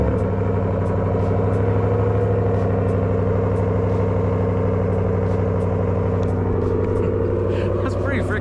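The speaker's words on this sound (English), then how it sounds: "we're gonna cold start this thing because this exhaust is actually quite loud" A Ram Rebel GT pickup with a 5.7L Hemi V8 and loud aftermarket exhaust idles after a cold start in freezing weather, a steady deep throbbing rumble close by.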